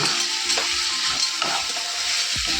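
Small fish and eggplant fry in a home kitchen pan, giving off a steady broadband sizzle with a few stirring scrapes and clinks along the way and no voices.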